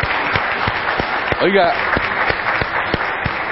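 Applause for the Estrellas de Belén children's choir: steady, broadband clapping from an audience continues throughout, while someone speaks briefly over it.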